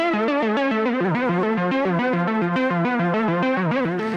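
A synth line runs through a BABY AUDIO Super VHS plugin, its sustained tones wobbling in pitch with a dodgy, tape-like warble, steady and loud throughout with no voices.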